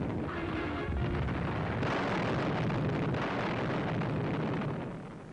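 Wartime artillery fire near a town on the east bank of the Rhine, heard as a continuous rumbling roar of blasts and distant booms that stays dense throughout, then eases slightly toward the end.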